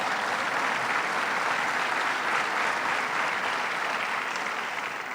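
Steady, dense clapping from a large audience at a governor's event marking completion of Greater Rochester International Airport, holding even throughout with a slight tail-off at the end.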